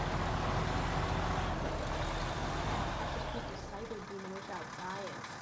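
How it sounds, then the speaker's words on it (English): A truck engine from the video game SnowRunner rumbles loud and steady, with low drone filling the first half, then easing down as a few brief whistly squeals and tones surface near the end. "You better speak louder, because I don't know if they can hear us over the truck"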